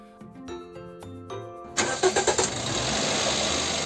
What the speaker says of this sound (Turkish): Bundan sonra artık bir arabayı çalıştıracağız.